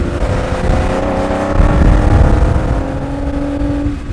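A Ferrari 250 Testa Rossa engine drones steadily as the car drives, a loud continuous rumble with rising and shifting pitch, heard from close by without any talking.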